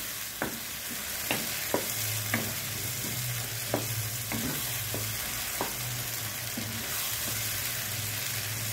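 Tomato paste being stirred into an Egyptian eggah egg mixture in a frying pan gives a steady, even sizzle with a spoon's occasional soft taps and scrapes against the pan, up close.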